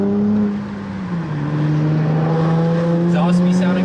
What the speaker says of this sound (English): Exhaust be sounding good.